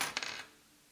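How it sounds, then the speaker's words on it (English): A short metallic jingle of keys rattling in a video game, a quick cluster of bright clinks that fades within half a second, fairly quiet and alone. "Keys rattle loudly."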